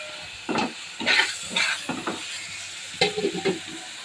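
Koi fish frying in oil in a kadai, with steady close sizzling and hissing broken by several louder bursts of spatter and stirring, and no one talking.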